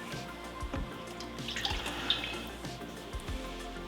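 Warm water pours from a tap in a steady, close splashing stream while mixing sourdough bread dough with flour and salt, with no one talking.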